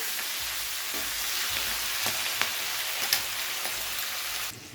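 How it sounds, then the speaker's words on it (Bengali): Mixed winter vegetables frying in a pan, a steady close sizzle with faint occasional stirring taps, no talking. "একটু ভালো করে ভেজে নিচ্ছি"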